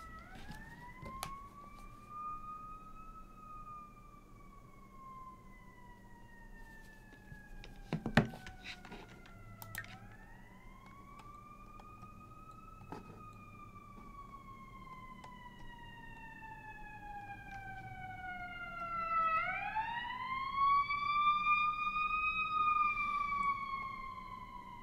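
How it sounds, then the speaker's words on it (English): Emergency sirens from the video game The Sims 4 wail in long rising and falling sweeps, fairly faint and distant at first, then growing louder near the end, with no talking over them. "Also, the sirens are back."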